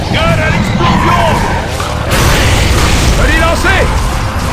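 A heavy explosion in Gears of War 3 (RAAM's Shadow DLC) booms through a dense wash of noise, with voices talking over the din throughout.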